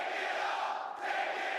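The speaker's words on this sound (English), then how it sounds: "listen to this crowd" A crowd cheers at a live Call of Duty League Major 2 esports event, a continuous roar of many voices held at steady loudness, heard from some distance with no clear single voice.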